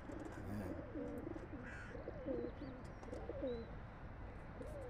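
Pigeons coo in soft, repeated rolling phrases close by over a steady outdoor hum, with a few faint chirps scattered in and no speech.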